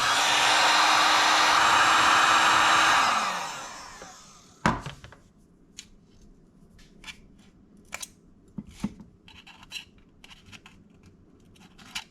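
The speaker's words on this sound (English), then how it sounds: "I finally picked up a heat gun" Cheap heat gun blowing hot air onto a titanium dirt bike exhaust: a loud, steady, close airy roar for about three seconds that winds down and stops, followed by scattered light clicks and taps in near quiet.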